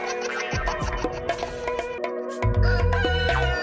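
A rooster crows loudly and close with a rough, strained call, followed by heavy low thumps and a sustained tonal layer toward the end.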